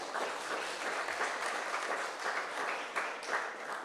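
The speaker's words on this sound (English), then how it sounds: "A round of applause again, please" A townhall crowd at St. Patrick's Anglican School gives the panel a round of applause: a steady, full patter of many hands clapping together, heard from a distance and sustained throughout.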